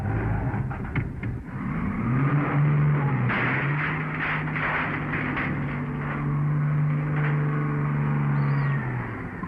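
A truck engine drones steadily at close range, its low hum rising slightly in pitch before settling into a sustained pull as it drives away, with a faint clatter early on and no talk.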